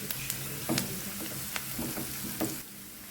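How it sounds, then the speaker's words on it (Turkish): Onions fry in a pan with a constant crackling sizzle, punctuated by a few sharp scrapes and taps of stirring. "Şimdi küp küp doğradım soğanımı şöyle koyuyorum. Bunu da kavuracağım."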